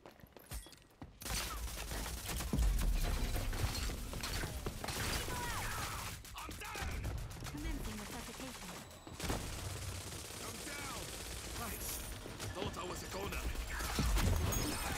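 Gunfire hits a player twice in the shooter game Rogue Company: sharp shots and crashing bursts break through loud, cluttered match noise, with voices in the background.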